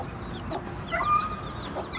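White Beç chickens cluck softly while pecking at feed on a farm, several short calls close by over a low background murmur.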